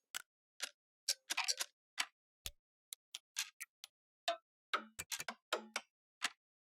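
Plastic clock ticks from the Keepforest Watchkeeper sample library: a dry, irregular series of sharp clicks and taps, some doubled, spaced through the clip with silence between them, fairly quiet and close.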